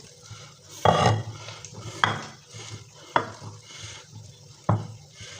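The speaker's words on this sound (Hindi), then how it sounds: "अब मैं इसको ऐसे करके गूँध लूँगी आटे की तरह।" Naan dough kneaded by hand in a bowl, with four or five separate slapping, squelching pushes spaced about a second apart against a quiet background.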